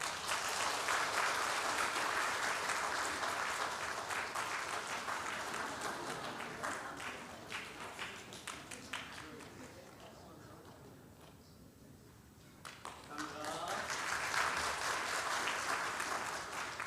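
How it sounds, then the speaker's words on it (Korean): A Korean church congregation claps at a Sunday service, a loud dense burst that tapers to near quiet, then swells again, with a voice speaking over part of it. "박수 주세요"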